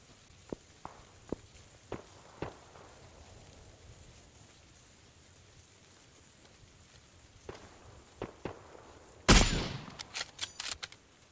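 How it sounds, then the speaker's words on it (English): Sporadic DP light machine gun fire in the battle royale game PUBG, scattered sharp, faint shots at a distance, then a louder close burst followed by several quick cracks near the end. "Somebody's shooting a DP over here."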